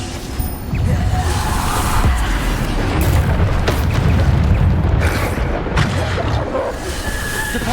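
Loud, booming spell blasts and crashing impacts from Bombarda, an explosion spell in a Hogwarts video game, rolling on almost continuously with whooshing debris.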